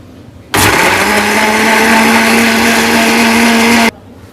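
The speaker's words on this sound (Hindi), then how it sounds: "अब हम इसको ब्लेंड कर लेंगे।" An electric blender whirs loudly and steadily for about three seconds as it churns strawberries, milk and sugar into a milkshake, starting and stopping abruptly with a constant high hum.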